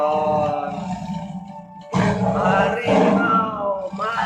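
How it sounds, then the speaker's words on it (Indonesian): A growling tiger roar used as a ringtone, a drawn-out tonal rumble followed by a second, harsher and louder roar with a raspy, textured edge. "Menyeramkan ringtone macan setan."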